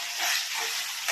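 Banana flower with salt and turmeric sautés in a pan, giving a short, even, bright hiss of sizzling heard close up.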